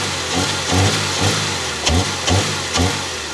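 A Subaru Justy G3X engine idles roughly and unevenly, its low rumble pulsing in uneven surges about every half second, loud and close with no talking.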